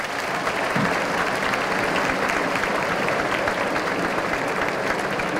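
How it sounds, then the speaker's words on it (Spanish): Young audience at an Ecuadorian school event applauding their teachers, steady dense clapping from a crowd throughout, moderately loud and continuous. "Un aplauso, jóvenes, para sus profes."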